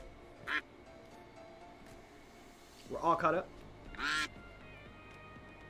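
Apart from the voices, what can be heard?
ducks quacking, duckie race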